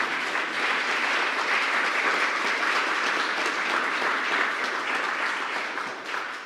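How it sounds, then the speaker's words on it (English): A crowd at a vice-presidential swearing-in ceremony for an African diaspora engagement council fills the room with steady, even applause, a broad wash of clapping that holds for several seconds before tapering slightly at the end. "And that deserves a round of applause."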